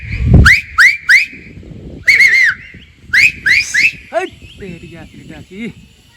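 A pigeon fancier's whistle: sharp rising whistles repeat in quick bursts of two and three, loud and close, followed by fainter chirping calls.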